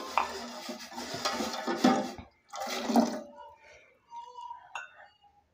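Cold water is poured into a pot and stirred while making Kashmiri tea, giving two bursts of splashing and clinking close by, followed by quieter scraping and faint chimes.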